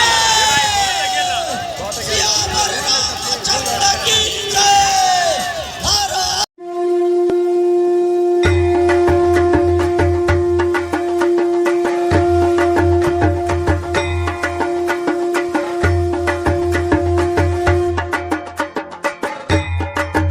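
A huge crowd at a Shaligram stone procession on its way from Nepal to Ayodhya, a dense roar of voices and babble, then loud music with a steady drone and thumping beats over the crowd.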